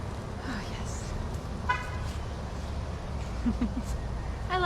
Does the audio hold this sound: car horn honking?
yes